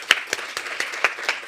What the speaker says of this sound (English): So please welcome Bassem by a big round of applause